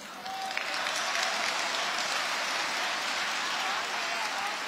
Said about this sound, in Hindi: थोड़ी तालियां कम है पीछे वालों